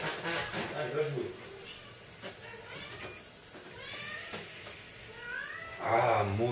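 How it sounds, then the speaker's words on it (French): A house cat meows repeatedly and then caterwauls loudly at the end, mixed with background speech and the music and sounds of a Resident Evil 4 game. "Vous aurez un petit peu de musique de chat comme ça"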